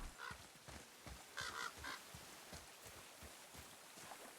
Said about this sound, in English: trying to figure it out based off the noises the birds are making